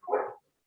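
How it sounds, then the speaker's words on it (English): A single short dog bark in the background, one muffled, mid-pitched woof lasting under half a second, followed by silence. "Sorry about the barking dog in the background"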